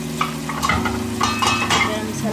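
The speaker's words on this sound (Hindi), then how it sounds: "डाल के इसको हम मसाला भून लेंगे" Salt, red chili, green chili and garam masala sizzle in hot oil as they are stirred and roasted for chickpea rice, with soft scraping strokes over a steady close crackle.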